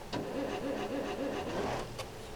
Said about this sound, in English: here's what it sounds like when you start the engine